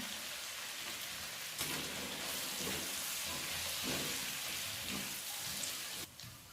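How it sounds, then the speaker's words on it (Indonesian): Sliced potatoes deep-frying in hot oil for nasi ulam at a street food cart, a steady, dense sizzling hiss that holds evenly throughout with a few brief crackling bursts, close and fairly loud, with no talking. "Sekarang masukin ini kentangnya, lalu goreng."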